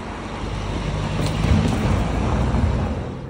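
A Toyota GR Supra 2.0 Dynamic with 258 PS pulls away in normal mode, a low engine rumble that swells briefly and then holds steady, mixed with wind and road noise.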